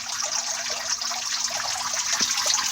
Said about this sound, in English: I use the rain machine.